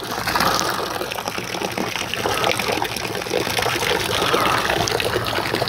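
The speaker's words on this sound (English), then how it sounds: "it's already pumping out of a bucket and going down again." Ecoplus 396 aquarium pump pushing water up into a bucket, a continuous gushing, splashing pour that stays close and steady throughout with no talk.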